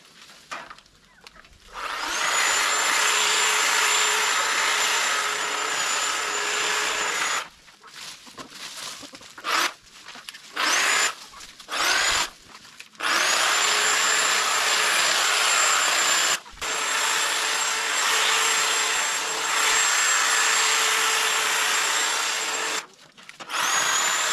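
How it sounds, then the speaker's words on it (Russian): A RYOBI 6160 electric hedge trimmer cuts branches one to one and a half centimetres thick while shaping garden shrubs and trees. Its loud, buzzing motor whine comes in long bursts broken by short pauses, with no talking. "Ну, друзья мои, ну вот примерно так она работает."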